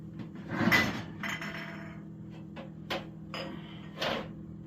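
Hot sanitized glass jars clink and knock against each other and a metal rack as they come out of the oven, producing a few close, bright chinks spread across a quiet kitchen background.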